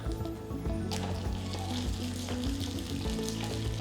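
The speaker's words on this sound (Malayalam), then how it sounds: "ഞങ്ങളുടെ വീട്ടിലെപ്പോഴും ഉണ്ടാക്കുമ്പോൾ തേങ്ങ വറുത്താണ് കടുക് പൊട്ടിക്കുക." Grated coconut frying with mustard seeds spluttering in hot oil: a steady, loud sizzle with scattered sharp crackles and pops from the seeds, close up and with no voices.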